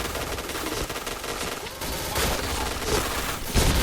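The White Tiger gun fires in rapid, continuous bursts in the shooting game Point Blank, loud and dense with a few heavier blasts near the end.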